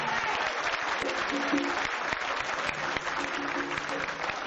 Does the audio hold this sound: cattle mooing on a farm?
no